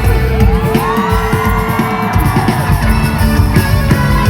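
Concert crowd cheering and whooping for a performer at the Melody of Life 15 event, loud continuous roar with yells and shouts throughout.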